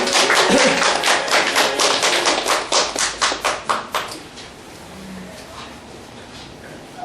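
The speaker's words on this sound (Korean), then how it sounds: "박수 한번 보내주세요" Audience applause at a talk concert, a dense burst of claps from a crowd that thins into separate rhythmic claps around the middle, then fades out and leaves quiet room tone.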